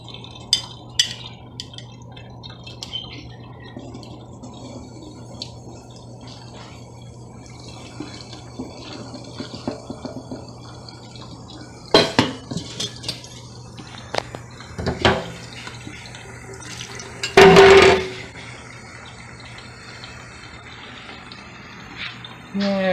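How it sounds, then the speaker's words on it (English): Hot and cold water splashes over a scored glass bottle to stress and split it, with a brief close burst of pouring and spattering among scattered drips and small clinks in an otherwise quiet workspace. "The next step is to hit the glass with hot and cold water to stress it and separate the head from the body."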